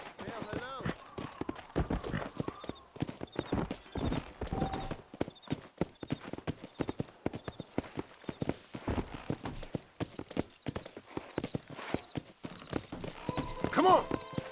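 Horse hooves clip-clop rhythmically on the ground in a Western video game set in New Austin, steady and fairly close, with a horse snorting near the end and a voice talking over it at times.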